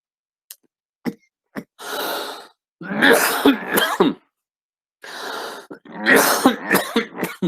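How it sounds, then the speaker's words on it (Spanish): Several harsh coughs in a row, spaced by brief pauses, close and fairly loud in an otherwise quiet room. "Tengo tos, oigan"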